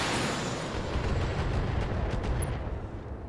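Long range missiles launched at a vehicle in the mech combat game Battletech, a dense, sustained roar of rumbling blasts and rushing fire, loud and continuous throughout with no voices.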